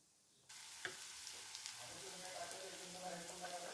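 Ginger and green chili paste fries in hot oil, a steady close sizzle that bursts on suddenly after a quiet start and keeps crackling with a few sharp pops and light stirring scrapes.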